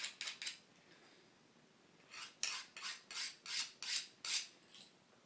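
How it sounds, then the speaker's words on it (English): A knife sharpener dragged across a knife's cutting edge makes a rasping, gritty scrape. Three quick strokes come first, then after a pause seven slower, even strokes follow in a steady rhythm, close and distinct. "purposefully dragging this sharpener across the cutting edge, only to demonstrate a point"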